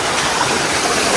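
A waterfall on the Paruvadhamalai hill trek roars loud and steady at close range, a constant broadband rush of falling water with no talking.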